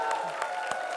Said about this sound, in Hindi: जोरदार तालियां अनुपम जी और राजीव निगम के लिए